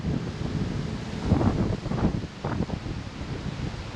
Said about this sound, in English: let the wind settle down.